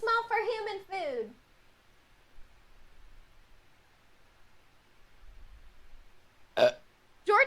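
A single loud, deep burp with a falling pitch from a Twitch streamer, lasting about a second at the start, followed by near silence and a couple of brief sharp noises at the end.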